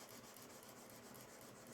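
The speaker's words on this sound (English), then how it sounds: "600, it's almost polishing the fret more than cutting it." A guitar fret being sanded with fine 600 grit sandpaper makes a faint, steady rubbing rasp that continues without pause throughout.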